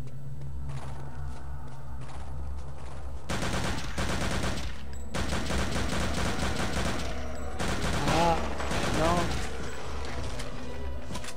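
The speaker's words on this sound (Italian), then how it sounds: "Sento spari." Rapid bursts of gunfire from the Return to Castle Wolfenstein video game, several loud automatic volleys separated by brief pauses, with a voice heard faintly among them.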